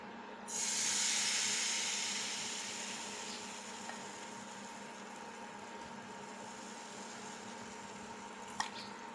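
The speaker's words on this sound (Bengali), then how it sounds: "প্যানটা গরম হয়ে গিয়েছে। এখন আমি এক হাত থেকে ব্যাটার নিয়ে চামচের সাহায্যে দিয়ে দিচ্ছি প্যানে।" Egg paratha batter hitting a hot pan, a sudden loud broadband sizzle that starts abruptly and then settles into a steady, slowly fading hiss, with a small clink near the end.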